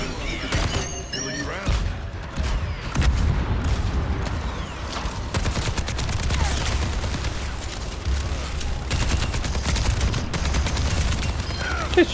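Rapid gunfire from the Overwatch hero Soldier in a match, dense overlapping bursts and booms crackling nearly nonstop, loud and close throughout.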